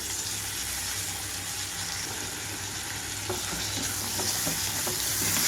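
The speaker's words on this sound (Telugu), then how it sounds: "టమాటాలు కంప్లీట్గా మెత్తబడే వరకు వేయించుకోవాలి" Chopped tomatoes sizzle in a pan over garlic and ginger that are already fried, a constant crackling hiss with a few light stirring clicks toward the end.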